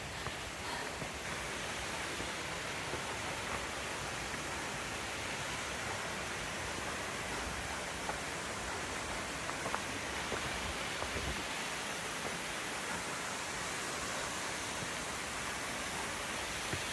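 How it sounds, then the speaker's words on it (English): Waterfall on Ramsey Cascades Trail in the Great Smoky Mountains, a steady, even roar of rushing water that stays constant and fairly close throughout, with no voices. "I see waterfalls"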